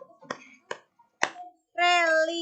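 Three sharp, separate handclaps from children in a classroom chant, spaced roughly half a second apart, followed by a voice singing or calling out a sustained tone.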